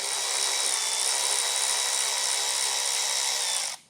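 A power tool removing T40 Torx screws from a 2024 Jeep Grand Cherokee, a steady high-pitched whirring whine held for several seconds before cutting off abruptly.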